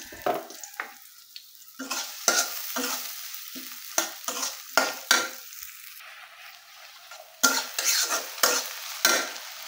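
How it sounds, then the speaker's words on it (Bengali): Onions frying with salt in oil in a kadai for a fish masala, a close sizzle punctuated by repeated rhythmic spatula scrapes and stirs against the pan. "তো প্রথমে তেল দিয়ে পেঁয়াজগুলো দিয়ে দিচ্ছি, তারপর দিয়ে দিচ্ছি লবণ,"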